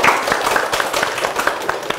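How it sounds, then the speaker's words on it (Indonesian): A small group of students at a campus gathering clap briefly, giving a short, close run of uneven hand claps with no voices over them. "Tepuk tangan dulu dong."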